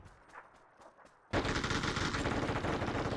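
Gunfire in a PUBG squad match on the Deston map: a few faint, distant taps sound first, then heavy, continuous automatic fire suddenly erupts close by and stays loud to the end.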